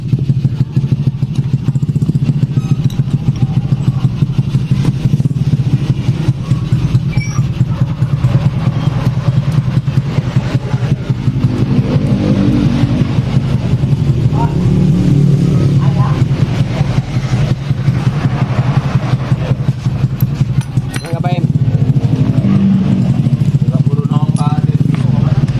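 A fuel-injected Honda Supra X 125 motorcycle engine, with a stumbling, unresponsive fault when cold, runs continuously at close range with a steady chugging idle while someone talks over it.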